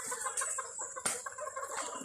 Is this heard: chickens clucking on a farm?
yes